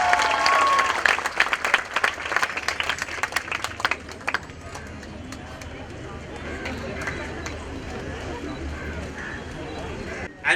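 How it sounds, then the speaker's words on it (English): An audience at a hospital golden jubilee celebration claps loudly for a young girl who painted a portrait. The applause fades after about four seconds into a low crowd murmur. "Come on, let's give her a big round of applause as well."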